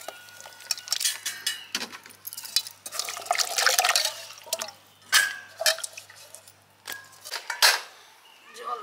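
Water is poured and splashed into a cooking pot for boiling potatoes, coming in irregular bursts of drips and sloshes with metallic clinks in between, close and fairly loud, with no talk.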